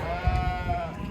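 Sheep bleat at a Kyzylorda livestock market, a single wavering, nasal bleat held for about a second over low crowd and yard noise, close and fairly loud.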